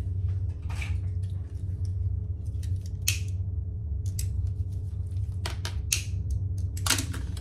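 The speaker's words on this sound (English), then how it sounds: "my scissors have gotten dull." Scissors with dull blades snipping through material, a series of irregular crisp cuts close by over a low steady hum, no voices.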